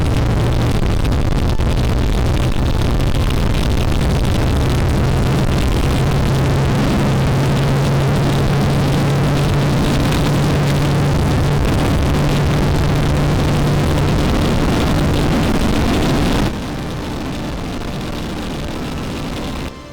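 A Lifan KPR165R FI motorcycle on a top speed run roars steadily with heavy wind rush, its engine note holding high and buzzing throughout, then the wind noise drops slightly near the end.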